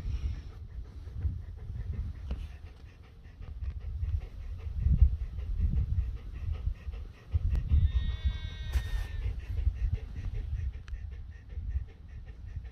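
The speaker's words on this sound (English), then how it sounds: "I'm trying to record a nice bit of scenery and all I can hear is your panting" A husky off leash outdoors at the Cheesewring pants heavily and close up, rapid breathy puffs repeating steadily throughout with no talk, wind and faint outdoor ambience behind.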